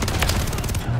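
Call of Duty MW3 gunfire fills a loud, dense one-second stretch of rapid overlapping shots and blasts.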